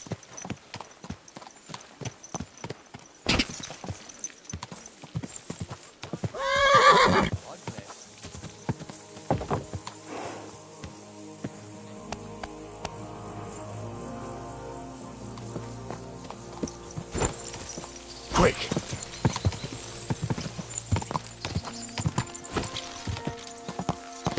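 Horse hooves clip-clop in a steady walking rhythm in Kingdom Come: Deliverance II, with a loud whinny partway through and a voice over the hoofbeats.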